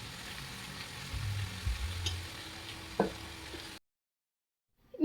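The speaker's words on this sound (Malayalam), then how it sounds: "നമ്മൾ കട്ട് ചെയ്ത് വെച്ച സവാളയിൽ നിന്ന് ഒരു പിടി സവാള എടുത്തിട്ട് ഞാൻ ഫ്രൈ ചെയ്യാറുണ്ട്" Sliced onions for chicken dum biryani fry in hot oil with a low, even sizzle and a couple of utensil knocks, close, ending abruptly in silence.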